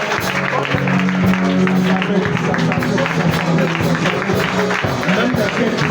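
Congregation cheering and applauding during a deliverance prayer service, a loud sustained roar of clapping and voices that stays strong and unbroken throughout, with speech mixed into the crowd noise.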